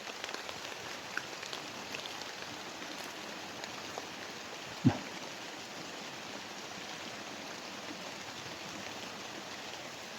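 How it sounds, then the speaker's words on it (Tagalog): Steady rain falling in a forest at night, a dense even hiss close to the microphone with one brief thump partway through; no one speaks. "Mas lalong lumalakas yung ulan mga lods ah."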